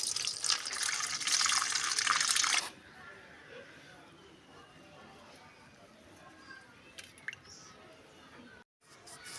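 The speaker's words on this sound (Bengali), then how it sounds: "আইসক্রিম বানানোর জন্য প্রথমে একটি ভিটকপি আর একটি লেবু ধুয়ে নেওয়া হচ্ছে।" A bitter gourd and a lemon are washed under running tap water for ice cream: a brief burst of splashing flow, then quieter wet squishing and dripping as the produce is handled.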